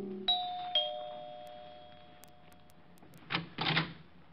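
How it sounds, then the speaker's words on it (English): A two-tone ding-dong doorbell chimes at an apartment door at 975 Park Avenue in an old-time radio detective drama, two clear, ringing notes that fade slowly, followed by brief footsteps or door sounds. "rang the bell to Helen's apartment"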